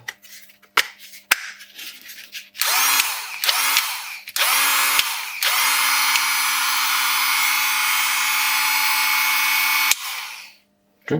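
A cordless battery-powered mini angle grinder spins up in a few short bursts, then runs at idle with no load as a steady, loud whine for about five seconds before winding down. Scattered clicks come before it starts.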